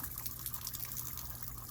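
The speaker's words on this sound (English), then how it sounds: "I just open up this valve and it bleeds off all the water" Water steadily draining from an opened bleed valve on the dishwasher supply lines of a Winnebago Voyage 38J RV, a continuous close trickling gush with faint drips and a low hum underneath, no voices.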